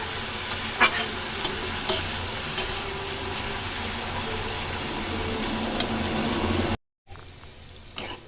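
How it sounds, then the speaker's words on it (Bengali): Bitter gourd and potato slices with a little turmeric fry in a pan over a low-to-medium gas flame, giving a steady, close sizzle with occasional stirring clicks and a brief dropout near the end. "গ্যাসের ফ্লেমকে লো টু মিডিয়ামে রেখে এটা ভাজবো"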